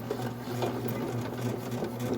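A bread machine runs its dough cycle, kneading fresh-milled whole wheat pizza dough with a steady, even motor whir and faint rhythmic churning, heard alone at close range.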